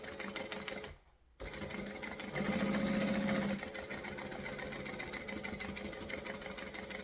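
A sewing machine stitches around a fabric pocket held up for depth, a close mechanical whirr with a brief faster, louder burst of stitching in the middle. No voices.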